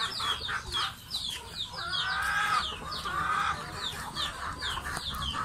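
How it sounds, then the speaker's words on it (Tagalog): Native chickens on an open field farm, several hens clucking in repeated short bursts with a longer drawn-out call midway, moderately close against a soft outdoor background. "Chicken, too much chicken."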